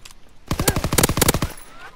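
Rapid automatic gunfire from a ranked shooter video game, a loud burst of about a second of fast repeated shots after a short lull, close and dominant with no talk over it.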